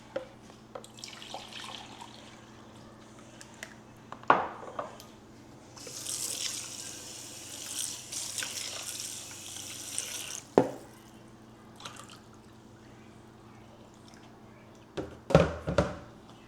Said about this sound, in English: I'm going to add another 4 cups of water